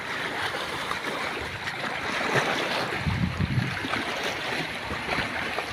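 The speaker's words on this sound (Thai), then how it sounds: "เก็บภาพ อ่างน้ำเทิน2มาให้เบิ่งเรื่องพายุเรื่องลมนี่" Storm wind gusts across the Nam Theun 2 reservoir in Laos as Typhoon Bualoi arrives, driving waves against the shore in a constant, loud roar with buffeting on the microphone and no talk.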